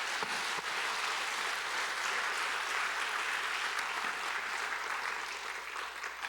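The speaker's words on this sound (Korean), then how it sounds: "말씀 주신 하나님께 감사의 박수 드립시다" A church congregation at a Korean revival meeting claps together in thanks after a sermon, a dense, sustained wash of applause from a large room, even in level with no voices on top.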